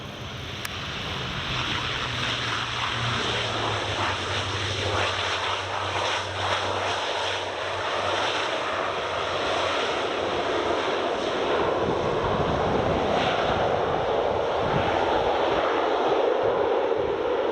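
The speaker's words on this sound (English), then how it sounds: "Aer Lingus ATR 72-600 from Belfast City." An Aer Lingus ATR 72-600 turboprop from Belfast City at Edinburgh Airport gives a steady, rushing engine drone with a low propeller hum early on, building slightly louder toward the end.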